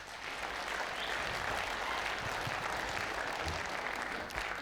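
A concert audience claps for the footballers at a comedy show, dense and steady applause that fills the whole stretch at an even level, with no voices standing out.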